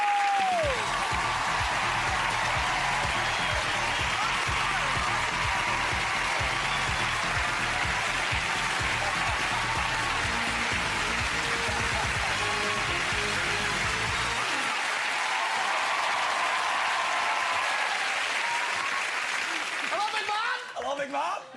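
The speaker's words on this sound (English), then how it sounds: "I'm clapping myself." Loud, sustained studio audience applause on a British family game show as a celebrity contestant is welcomed, with music underneath for most of it before dropping to clapping alone and fading near the end.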